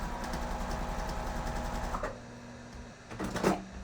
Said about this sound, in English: I'm going to remove one clip, and I'm going to sew down